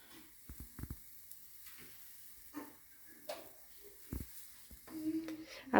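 Pancake batter sizzling in a hot frying pan, a faint steady hiss broken by clinks and scraping sounds, with brief bits of conversation nearby.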